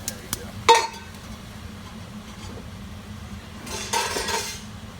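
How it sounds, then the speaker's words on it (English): A spoon scrapes and clinks through risotto in a pan, with a couple of short stirring bursts over a faint background simmer and some quiet talk. "So I'm going to start stirring again."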